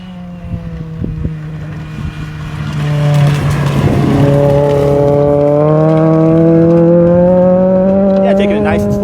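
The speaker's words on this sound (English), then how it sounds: "Looks like we got another car coming up here. Moving pretty fast." A rally car on a gravel stage approaches at speed, its engine note climbing into a loud, sustained, high-revving roar as it nears, with wind buffeting the microphone and a commentator talking at the start.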